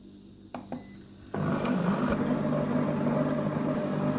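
A Compact Cook Elite multicooker starts up at speed 2: a few soft clicks and beeps, then a steady loud motor whir that holds evenly to the end.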